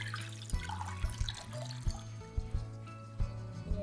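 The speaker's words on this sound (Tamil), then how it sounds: "இப்போ அடுப்பில் ஒரு பாத்திரத்தை வச்சு நம்ம அதில் தண்ணி சேர்த்துக்க போகிறோம்." Water pours into a cooking pot on the stove for sweet corn soup, a continuous splashing, trickling stream with small irregular knocks, close and moderately loud.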